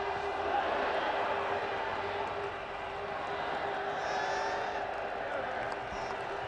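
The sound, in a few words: cricket crowd applauding with a standing ovation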